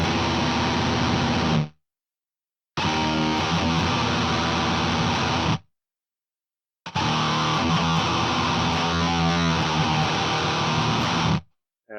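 Cranked HM-2 distortion drives an electric guitar into a harsh chainsaw tone, three loud, dense, fuzz-saturated bursts of playing separated by short silent gaps.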